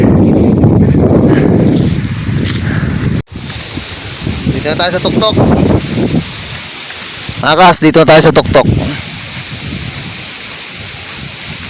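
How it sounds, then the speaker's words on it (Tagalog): Strong wind roars and buffets the microphone on a mountain summit, loud and continuous, while someone talks over it in bursts. "Medyo malakas ng hangin."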